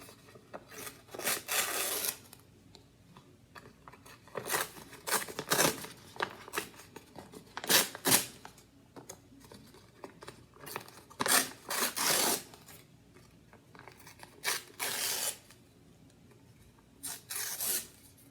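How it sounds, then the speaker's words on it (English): Paper bearing a painting or drawing is torn apart by hand in a series of quick, scratchy ripping bursts separated by brief pauses, close and fairly quiet, with no talking. "Sometimes I like to look at the side that I'm tearing up"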